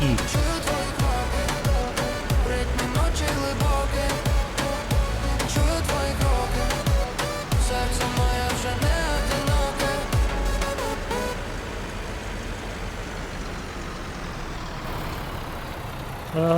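A truck drives in Farming Simulator 19, its engine droning loudly and steadily with a rhythmic mechanical pulse before settling into a smoother hum near the end.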